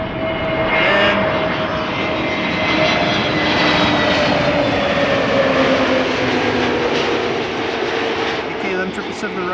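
A KLM Boeing 777 arriving at Amsterdam Schiphol Airport, its jet engines roaring loud and steady with a slowly falling whine as it passes close by.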